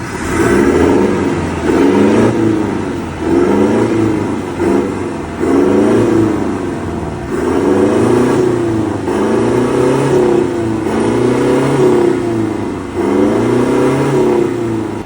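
A car engine with an aftermarket exhaust revs hard again and again in regular bursts, loud and throaty through the exhaust, with brief dips between each rev.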